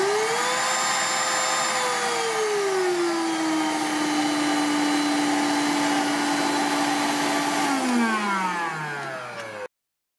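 A Lidl Silvercrest 22.2 V cordless cyclonic vacuum cleaner runs up close with a steady whining hum that settles lower, then winds down in falling pitch as it switches off.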